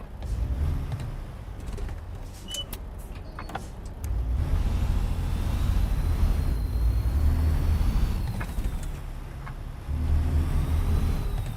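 A truck engine in American Truck Simulator, a low steady rumble that swells and eases with the throttle, a faint turbo whistle rising over it, and scattered clicks early on.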